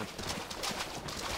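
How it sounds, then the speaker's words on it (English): Horse hooves clip-clopping in a steady, quick gallop in the Mount & Blade video game, moderately loud and continuous. "I stole a Frolish horse."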